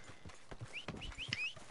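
Horse hooves clip-clop softly in the beta of the video game Red Dead, a faint, uneven trot of low thuds with brief bird chirps above it.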